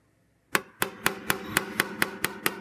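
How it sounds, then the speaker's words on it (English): A blending hammer taps out high spots on a dented car panel during paintless dent repair. After a brief silence come about ten sharp, evenly spaced metallic knocks, close and loud. "I'm now just using my blending hammer and just tidying up some of the kind of high spots"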